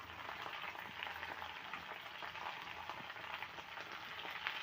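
Okra fries in a pan with a faint, even sizzle and fine crackle like light rain. The sound stays steady and fairly quiet throughout, with no talking.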